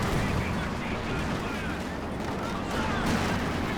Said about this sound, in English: Bringing in a strafe over here for the Raketin as well.